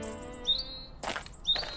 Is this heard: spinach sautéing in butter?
no